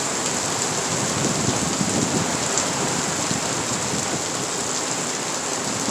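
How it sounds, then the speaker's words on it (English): Steady outdoor rain falls throughout, a dense continuous hiss of drops hitting surfaces with no talking, heavy and close as the weather worsens. "It's raining"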